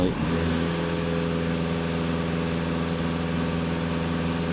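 VW Golf 2.0 TDI 4x4 diesel engine revved hard and held at high revs during a DPF and EGR cleaning check, a loud, steady, close-up drone with a dense, unchanging tone after a brief rise.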